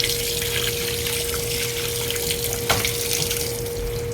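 A kitchen tap runs hard and steady while beef is washed under it for pares, a loud continuous splashing stream with a faint hum in the background and a brief knock partway through.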